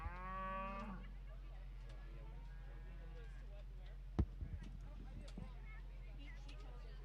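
Cattle at the Sheridan County Fair livestock show give one drawn-out moo at the start, then quieter barn and crowd noise continues with a sharp knock partway through.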